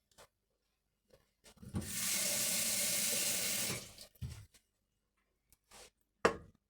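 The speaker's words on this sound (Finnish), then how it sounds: "Nyt mä laitan tähän vettä ja pistän kiehumaan." Tap water pours steadily into a cooking pot in a home kitchen for about two seconds, loud and close, with brief clinks and handling knocks before and after.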